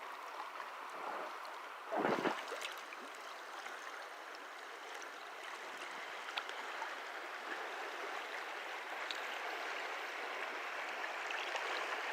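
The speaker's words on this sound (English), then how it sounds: "Some mini rapids." Continuous rushing water of small rapids on West Canada Creek near Poland, New York, with wind noise, a brief louder gust or splash near the start, then a steady churning wash.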